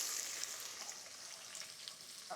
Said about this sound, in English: A fantastic sizzle,